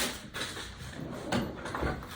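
A drawer in a crowded craft room slides open and shut during a search, with soft knocks and rustling scrapes at moderate volume and no talking.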